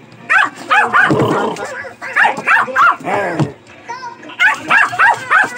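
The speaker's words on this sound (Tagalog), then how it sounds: "Kumakahol." A Pomeranian dog yips and barks in quick high-pitched bursts, close and loud, with short pauses between volleys.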